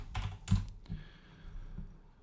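Several distinct keystrokes clack on a computer keyboard while entering a console command, a few quick taps near the start followed by sparser, softer presses, close and alone.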